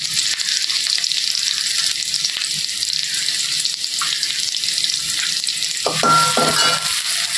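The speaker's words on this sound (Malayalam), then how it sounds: "അതിലേക്ക് ഒരു ചെറിയ സവാള പൊടിയായി അരിഞ്ഞത് ഇട്ട് കൊടുക്കുന്നുണ്ട്" Finely chopped onion fries in a pan with a steady, bright sizzle, and a few clinks and a faint water-like trickle come through near the end; no one speaks.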